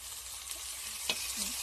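Steady hissing sizzle of onion and mustard paste frying in hot oil, close by, with a brief stir or scrape partway through.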